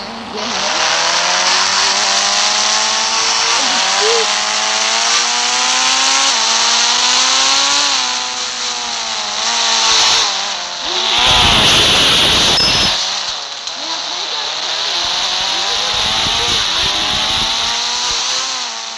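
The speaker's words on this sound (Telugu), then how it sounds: "కార్ బాగా డ్రైవ్ చేస్తుంది." A car engine in the Indian Bikes Driving 3D video game drones loudly and steadily, its pitch rising and falling through gear changes. A harsh burst near the middle sounds like a tire squeal or skid.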